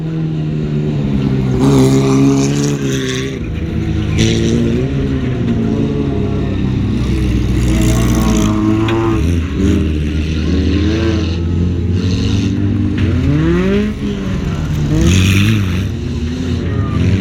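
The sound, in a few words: race cars lapping in a no-rules car race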